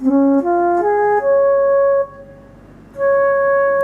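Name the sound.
electronic keyboard flute tone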